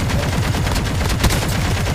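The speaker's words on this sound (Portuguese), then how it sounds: "Nossa, tô dando muito tiro" Rapid, dense gunfire in a first-person shooter video game, rattling bursts of automatic shots running continuously and loud throughout, with no talk over it.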